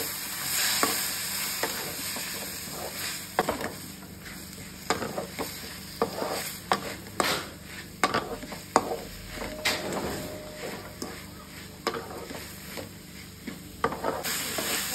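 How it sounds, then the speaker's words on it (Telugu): Soft sizzling of tomatoes and onion frying in oil for chicken biryani, broken up by frequent scraping and tapping from a spatula stirring the pan. "ఇది కూడా ఇట్లే ఆయిల్లోనే ఫ్రై చేసుకుంటాము."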